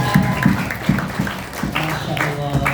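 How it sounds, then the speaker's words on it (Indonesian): Children clapping at a Ramadan gathering at an Islamic boarding school, a short burst of uneven applause with a voice speaking over it. "Tepuk tangan dulu."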